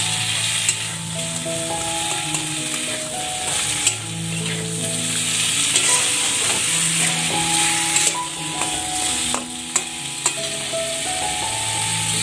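Chicken stew frying in a pan, a steady loud sizzle with occasional stirring clinks and scrapes of a utensil against the pan, continuous and close.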